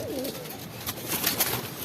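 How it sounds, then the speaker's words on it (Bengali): A female Jabra Kauwa breed pigeon coos softly in a low, brief call near the start, with faint background noise and higher bird chirps following. "এটা কাউয়া জাতের কবুতর।"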